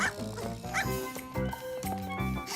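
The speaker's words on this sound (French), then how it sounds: "Il est drôle, ce chien." A cartoon dog barks and yips several times in quick, uneven bursts, close by, with tonal background sound underneath.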